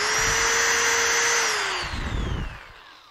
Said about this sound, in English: I do want to pre-drill the holes and be very careful at this stage.